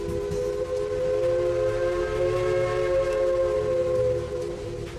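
A steam train climbing a mountain lets out a loud, steady steam whistle. Several harmonic tones hold unbroken for about five seconds over a rumbling low background.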